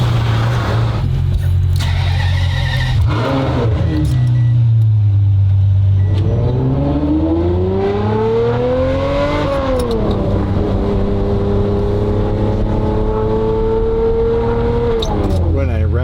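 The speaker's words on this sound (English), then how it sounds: "It doesn't rev up and rev down freely." A Ferrari V12 with a Gintani tune revs up, falls back and climbs again, a loud close engine whose pitch sweeps up and down while people talk over it.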